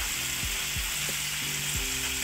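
Flour-coated spiced crispy chicken fries in hot oil with a steady, dense sizzle, joined by a few hard metallic knocks and scrapes of a utensil against the pan.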